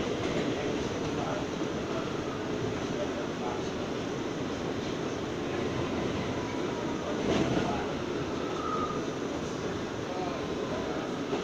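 Steady low rumble and rattle of a New York City R179 Brooklyn-bound J local subway train in motion, with a brief louder clank near the end; no voices.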